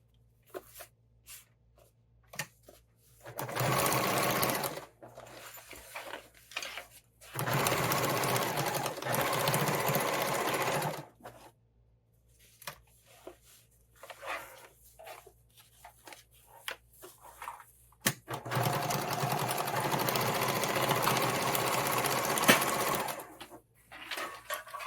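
A sewing machine stitching pockets on a fabric tool roll runs in three sustained bursts of steady whirring, with quiet handling and fabric rustle in the pauses between.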